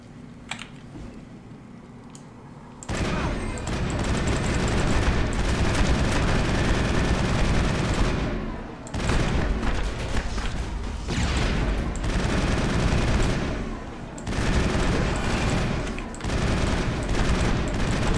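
Sustained video game gunfire, long continuous bursts of rapid automatic shots that break off briefly and restart, loud and close with a quieter stretch before the first burst.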